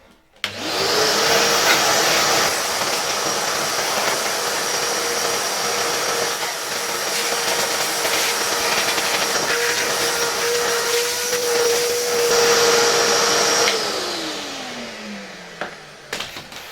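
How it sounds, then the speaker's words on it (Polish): Loud workshop vacuum cleaner cleaning an old 1939 AEG electric heater: the motor whirs up abruptly, runs with a steady high whine and rushing airflow that shifts as the nozzle moves, then winds down with a falling pitch. "Ja teraz przyniosłem tutaj odkurzacz warsztatowy, może to na chwileczkę odłożę i spróbuję tutaj w tym grzejniku odrobinę poodkurzać."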